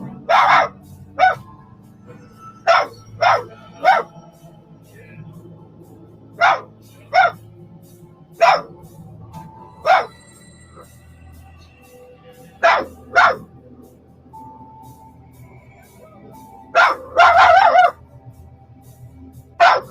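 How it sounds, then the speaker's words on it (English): A dog barking at a doorway indoors, sharp single and double barks repeating at irregular intervals over about twenty seconds, with a short rapid burst near the end against a quiet, low-humming room. "We can see the dog continuously barking at the doorway"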